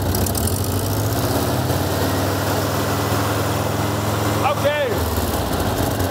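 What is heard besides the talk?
VW Beetle (Mexico Käfer) engine revving with broken exhaust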